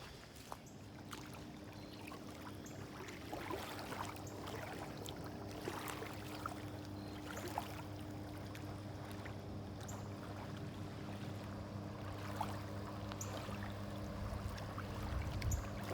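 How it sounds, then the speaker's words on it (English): Water laps softly around a pontoon boat on a lake at a state park, a faint irregular splashing and gurgling with a low steady hum beneath. "What a relaxing sound of water"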